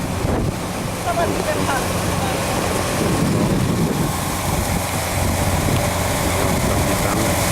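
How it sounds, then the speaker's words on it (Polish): A cruise boat sailing on Assawoman Bay near a highway bridge, with constant wind buffeting the microphone and the low rumble of the hull and water, while someone speaks briefly over it. "płyniemy sobie łódką"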